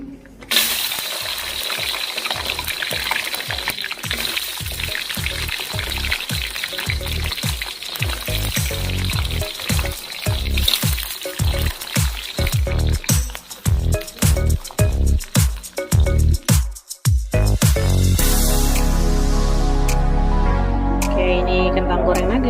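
Potatoes frying in used cooking oil in a home kitchen, a dense sizzle broken by a rapid run of clattering knocks and crackles, then a bubbling hiss, close and fairly loud.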